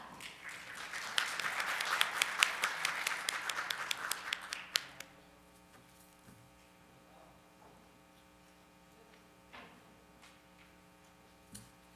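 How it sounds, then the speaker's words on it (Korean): A keynote audience at a Korean digital economy forum breaks into dense, loud clapping that swells for about five seconds, then stops abruptly, leaving a quiet room with a steady electrical hum and a few faint stray sounds. "여러분 큰 박수 부탁드립니다"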